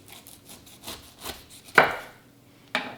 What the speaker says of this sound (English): Now I'm going to cut off the very top.